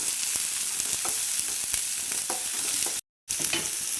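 About a dozen lengthwise-sliced shallots sizzle in hot coconut oil, a steady close-up frying hiss broken by scraping stir strokes, with a short gap of silence near the end before the sizzle resumes.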